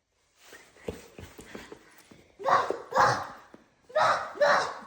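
A person imitates a dog barking in play with a small child: a few soft vocal sounds, then three loud, emphatic "woof"-like barks in quick succession, close to the microphone.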